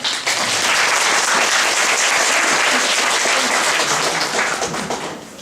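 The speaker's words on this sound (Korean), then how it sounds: "일단 박수 한번 쳐주세요." An audience at a lecture applauds steadily, a dense wash of many hands clapping that fades slightly at the end.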